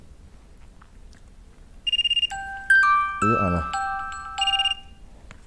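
A mobile phone ringtone plays a bright, tonal melody with repeated pulsing notes, fairly loud and close, starting partway in amid a quiet room with a brief spoken word.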